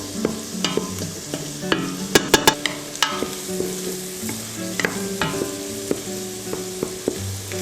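Garlic sizzles in a hot pan, a steady hiss of frying broken by sharp clacks and scrapes as the mixture is stirred, close and fairly quiet, with no talking over it.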